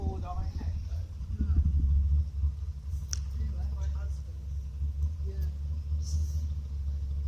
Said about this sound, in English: That is a dreadful noise coming from just one car. It's vibrating all over the street.